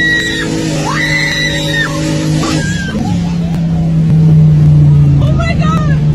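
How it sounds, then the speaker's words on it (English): Loud, high-pitched screaming from girls during a car's launch-control acceleration, sustained and rising, over a steady engine drone with occasional shouting voices. "It's quite fun to watch how loud these girls can scream."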